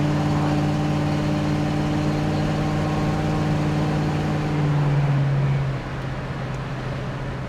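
A 1965 Ford Mustang engine drones while driving, a steady mid-low engine hum with tonal harmonics that rises briefly as it accelerates, then eases off as the pitch drops near the end.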